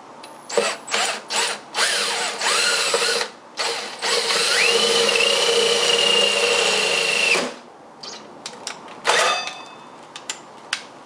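A 4.5 inch hole saw on a cordless drill cuts into a PC case: short bursts of whirring and grinding, then one long, steady, loud metallic cut with a rising whine, which stops abruptly and is followed by a few clicks and a quick final burst.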